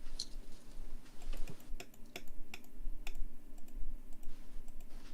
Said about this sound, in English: I'll get messages tomorrow saying your mouse and your keyboard is too loud.